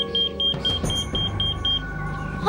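A temperature alarm on a cold storage box meant to stay between -24 and -30 degrees gives a quick run of about eight short, even, high-pitched beeps over a low background rumble.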